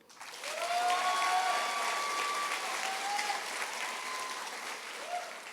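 A graduation audience bursts into applause for award winners, a broad, sustained roar of clapping that swells quickly and holds, with cheering voices rising over it.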